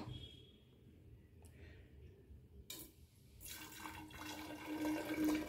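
Ethanol-free XP100 petrol poured into a measuring cylinder, a soft liquid trickle and fill that builds in level over the second half, close by with a low background hum.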